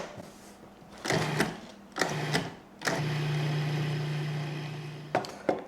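Leaves for a bread and panini recipe are ground in a food processor, heard as several short whirring bursts followed by one long steady motor run of about two seconds, then brief pulses, loud and close.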